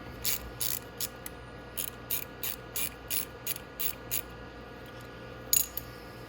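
A ratchet wrench works 8 mm bolts loose on the top end of a Venom X22gt 250cc engine, clicking in short repeated bursts of rapid pawl ticks with pauses between, close and fairly quiet over a faint steady hum.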